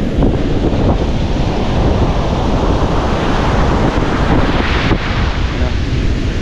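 Loud, constant roar of large ocean waves breaking, mixed with gusty wind rumbling against the microphone.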